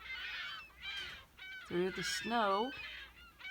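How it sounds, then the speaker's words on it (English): Seagulls calling in the snow, several harsh wavering cries overlapping near and at middle distance, with a person speaking at the same time. "It's seagulls. That's seagulls all over."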